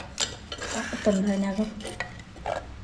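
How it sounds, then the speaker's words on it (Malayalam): A big ladle stirs tempered mustard seeds into a pot of lentil curry, giving soft scraping and clinking against the pot with a faint sizzle, while a voice speaks briefly over it. "ഒഴിച്ചതിന് ശേഷം നമുക്ക് വലിയ തവി എടുത്ത് ഒന്ന് കോരി"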